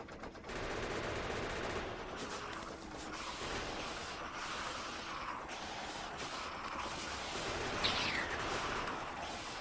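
Rapid, continuous gunfire from shooting enemies in Factorio rattles steadily through the whole stretch, dense and loud with no pauses, layered over a busy game soundscape.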